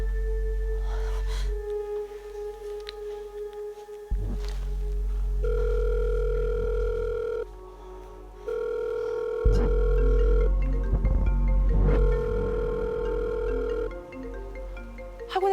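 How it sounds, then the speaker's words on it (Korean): A telephone rings in steady repeating electronic tones, with shifting pitch patterns and a low hum underneath, fairly loud and without talking. "학원에 딸린 테라스 쪽에서 희미하게 벨소리가 들리는 거예요"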